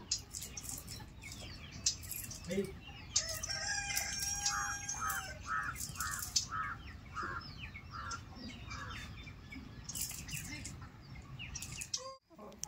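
Chickens cluck and a rooster crows repeatedly on a rural village farm in the morning, moderately near, with scattered small bird chirps and faint background noise.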